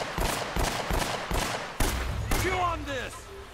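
Enemy gunfire in Uncharted: Drake's Fortune, with several quick bursts of shots close together, then a sharp report followed by a swooping, whistling tail, as a voice is heard briefly.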